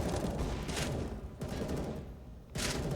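Rapid bursts of gunfire from a CS:GO match on the Train map, dense overlapping volleys of rifle shots that sustain loudly throughout with brief dips between flurries, no talk over them.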